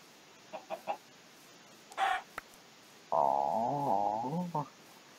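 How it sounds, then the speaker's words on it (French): A chicken clucks in a video game. A few soft, short clucks come first, then a longer, louder drawn-out squawk that bends in pitch and ends with a final brief cluck. "Ah, il y a un autre poulet."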